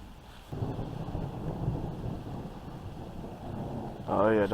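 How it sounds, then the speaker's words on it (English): Deep, rolling thunder from an approaching thunderstorm rumbles steadily for several seconds amid wind and rain noise, followed by a short burst of voice at the end. "the thunder's definitely becoming more active"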